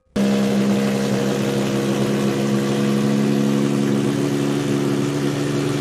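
A Lamborghini Essenza SC with a naturally aspirated 6.5-liter V12 making 820 horsepower runs with a loud, steady, close engine drone that holds an even pitch throughout, with no talking.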